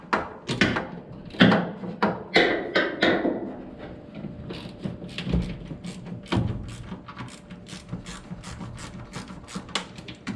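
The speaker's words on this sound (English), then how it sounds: "the next thing we're going to do is unbolt the clutch master cylinder from the firewall" Bolts being undone from the firewall of a 1983 Toyota FJ60 Land Cruiser while removing the clutch master cylinder: close, loud bursts of wrench ratcheting and clicking metal, quickening into short rapid clicks.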